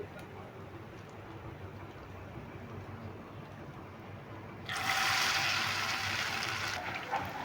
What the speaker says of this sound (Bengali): এবার বাকি কটা ভেজে নিচ্ছি